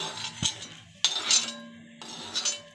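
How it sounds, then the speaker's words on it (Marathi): Roasted whole spices such as pepper, cloves, star anise and cinnamon are tipped into a metal plate, giving three bright metallic clinks and rattles spaced about a second apart, close and fairly quiet. "त्याची ताटामध्ये काढून घ्यायची"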